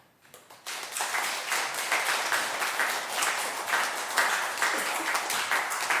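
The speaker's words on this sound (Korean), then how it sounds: "선교사님 나오실 때에 또 위로와 격려의 박수 하겠습니다" Congregation clapping in welcome as a missionary comes forward during a Sunday church service, a dense, steady applause of many hands starting abruptly and continuing evenly without talk.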